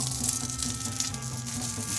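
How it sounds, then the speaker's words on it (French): Shrimp and pepper skewers sizzle on a hot griddle with a drizzle of olive oil, a steady close crackle and hiss. "avant de les faire cuire sur une plaque avec un trait d'huile d'olive"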